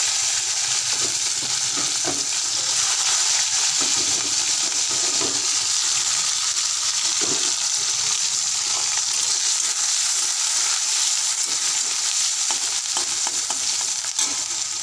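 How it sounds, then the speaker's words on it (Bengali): Chopped onions frying in a pan for ghugni: a continuous, close, even sizzle runs throughout, dotted with soft stirring scrapes and taps. "পেঁয়াজটা একটু হালকা লাল করে ভেজে নেব।"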